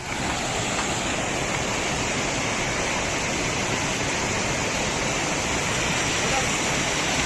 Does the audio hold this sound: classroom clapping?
no